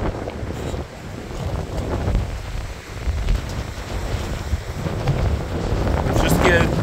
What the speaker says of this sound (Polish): Ale fale.